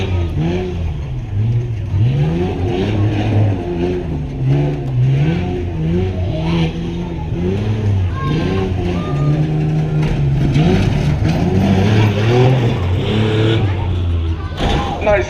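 A Ford Ranger pickup revs hard through a bumpy whoops section at a tough-truck event, its engine rising and falling in rapid surges as the truck bounces, with a commentator talking over it throughout.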